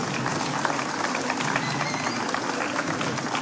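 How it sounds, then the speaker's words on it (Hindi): Applause from an audience welcoming a Union minister at a Fit India Run event in Lucknow, dense, steady, unbroken clapping filling the space throughout with crowd murmur. "जोरदार तालियां"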